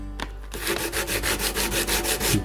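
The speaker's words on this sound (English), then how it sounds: "I'll get started on the sanding" Steady back-and-forth sanding strokes on a wooden case of an old NZ Phoenix radio being restored, about a dozen even rhythmic rubs, close and fairly loud with no voices.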